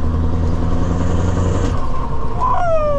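A fully customised truck, following a Scania 4 Series 580 V8, accelerates hard with a loud, steady engine drone up close, then a rising whine as it shifts toward the end.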